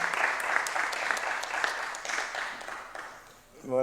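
Applause from an award ceremony audience as a consolation prize goes to a company at a business forum prize-giving, steady clapping that thins toward the end before a voice cuts in.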